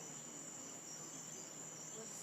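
A cicada caught by a boxer dog buzzes in a continuous, high, even drone that stays faint and unbroken throughout, with no voices.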